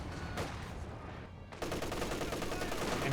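MG-34 machine gun in Company of Heroes 2, firing sustained rattling bursts amid dense battlefield noise, with a brief dip before the fire resumes at full intensity.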